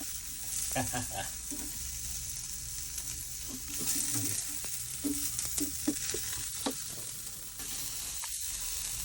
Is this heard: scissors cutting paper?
no